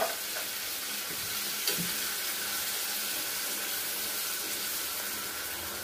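Baked beans sizzle steadily in a hot pan as they are stirred, a dense, even frying hiss with a soft scrape near the start and one faint knock partway through; no one speaks.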